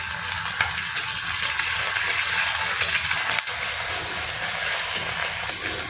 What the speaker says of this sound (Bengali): ডিমটা হালকা করে নাড়িয়ে ভেজে নেব।